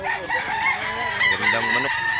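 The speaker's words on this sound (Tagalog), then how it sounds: "Gandang manok." A Hennie Chocco rooster, a year-old bird, crows loudly and close by in a rural Cebu setting, its drawn-out call rising and falling over about two seconds with faint clucking and a hint of background talk.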